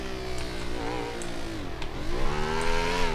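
A Honda XRE 300 motorcycle engine in the video game GTA V drones continuously, its pitch dipping and then climbing again as it revs, loud and close with no talking.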